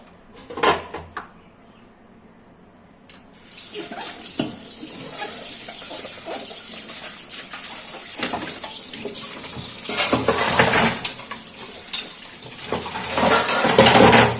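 Dishes being washed in a kitchen sink under a running tap, with a loud steady gush of water, clinks of utensils and a pause in the flow near the start, with no talk.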